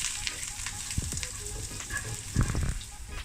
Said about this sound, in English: Wait for it to sizzle.